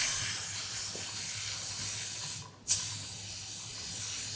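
Brief hissing burst of synthetic chain guard lubricant sprayed onto a motorcycle chain, a short aerosol spurt lasting about a quarter second against a steady low background hum, with no talking.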